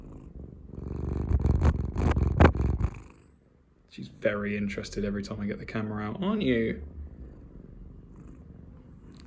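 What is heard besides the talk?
cat purring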